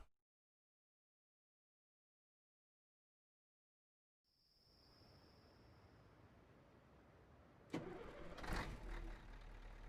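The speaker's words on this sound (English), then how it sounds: "Nice sounding engine." A Christmas-themed truck in Euro Truck Simulator 2 cranks to life after several seconds of silence and settles into a low, rumbling idle, then gives a brief throaty rev.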